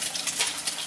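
An egg cracked into very hot oil sizzles briskly in a pan, a continuous bright hiss with slight fluctuations, close and fairly loud.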